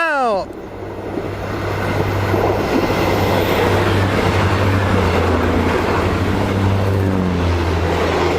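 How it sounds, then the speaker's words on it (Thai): Express train no. 75 from Bangkok to Nong Khai rushes through Ban Pok Paek station, a loud, close roar of wheels and engine that builds quickly and holds steady, with a sweeping tone at the very start. "ขบวนรถด่วนที่ 75 นะครับ กรุงเทพอภิวัตรหนองคาย มาแล้วนะครับ ผ่านสถานีบ้านปอกแป๊ก"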